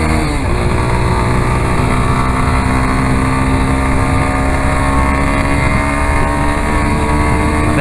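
Car accelerating onto a Brazilian highway, with loud, constant engine drone and rising harmonic tones as it gains speed, plus heavy wind and road noise inside the cabin.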